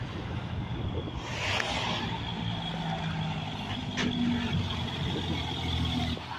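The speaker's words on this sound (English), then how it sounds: "Nice Jake brake." A passing truck's engine brake rumbles as a deep, steady roar that holds loud throughout, heard outdoors with road noise and no talk over it.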